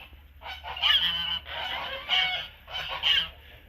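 Geese in an enclosure honk in several loud, harsh bursts close by, calls overlapping in a ragged rhythm over a faint low background hum.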